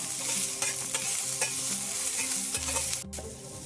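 Onion frying in oil for a fish curry, stirred in the pan with scraping utensil strokes over a continuous close sizzle, a few sharp clinks and a brief pause near the end, no voices.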